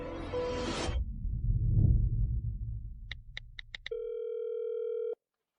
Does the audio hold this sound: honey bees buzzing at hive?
no